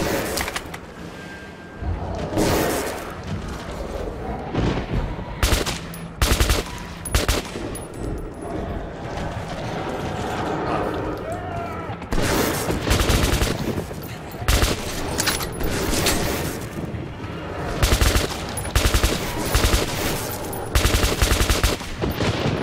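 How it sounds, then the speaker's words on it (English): Gunfire in the first-person shooter Metro 2033 Redux: repeated bursts of loud automatic shots and single cracks across the scene, clustered in rapid volleys with brief lulls, set against a dense game soundscape with no talk over it. "Oops, shot him in the butt."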